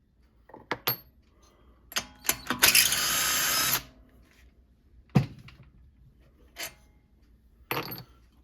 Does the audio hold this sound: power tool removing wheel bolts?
yes